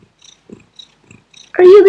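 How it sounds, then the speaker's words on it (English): A pet cat makes a short, near, loud purring trill after soft rustles and small clicks, lasting about a second. "Are you the cutest cat alive?"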